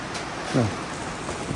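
Steady rain patters across a Miyazaki mango farm, a soft, even wash of drops close by, with a brief voice rising partway through.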